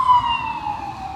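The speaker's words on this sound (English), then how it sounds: "There's fire trucks and ambulances and cops All day" A loud, close emergency siren from a fire truck, ambulance or police car on a city street wails in one long descending tone, alone, with faint traffic rumble beneath.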